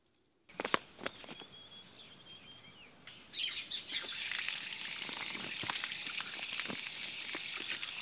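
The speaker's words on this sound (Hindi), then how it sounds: "दोस्तों ये पानी डायरेक्ट झरने से कनेक्टेड है" Water from a pipe fed directly by a mountain spring at an old mountain house starts pouring about halfway through as a steady, close rushing stream, after a quiet stretch of bird chirps and a few small knocks.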